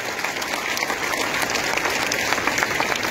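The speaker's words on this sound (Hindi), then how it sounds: "एक बार पुनः अपने लिए तालियां बजा दो" A crowd applauds continuously at a school welcome event in Kushinagar, India, dense clapping at an even level throughout.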